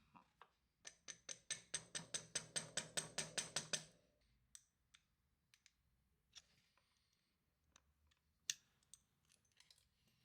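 A security spring lock pin is worked out of a Yamaha Xmax YP125R brake caliper, giving a fast run of about fifteen sharp metallic clicks, then scattered faint ticks and taps close up in a quiet room.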